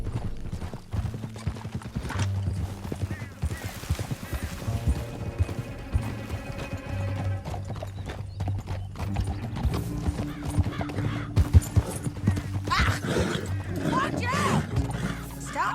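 Horses gallop in Red Dead Redemption 2, with steady, close clip-clop hoofbeats running throughout, a neigh rising near the end, and a voice talking over the riding.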